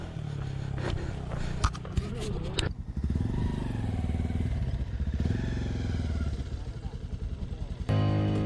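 A Bajaj Pulsar 220F motorcycle revs hard and labours up a rough off-road climb to Gavibetta, its engine rising and falling in loud bursts with clattering over the rocky track, while voices call out over it.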